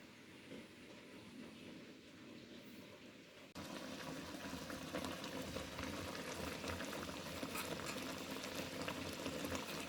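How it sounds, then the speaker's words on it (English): Sauce boils in a pot for a Jamaican chicken dish, a soft continuous bubbling and hiss that grows noticeably louder and denser partway through, heard close with no talk. "my sauce is boiling"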